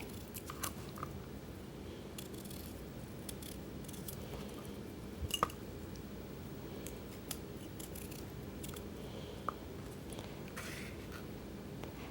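A short Rada paring knife peeling a kiwi, making faint soft scraping and snipping cuts close up, with a few sharper clicks over a low steady background hum and no talk.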